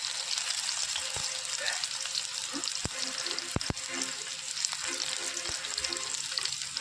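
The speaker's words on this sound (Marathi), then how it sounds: "कढईमध्ये तेल टाकून छानसं परतून घ्यायचा आहे कांदा." Chopped onion frying in oil in a kadai gives a steady, close sizzle, broken by several sharp clicks and scrapes from stirring.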